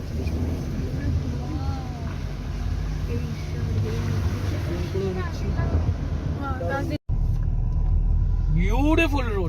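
A car driving a wet mountain road after rain, a steady low engine and road rumble throughout with someone talking over it and a brief dropout near the end.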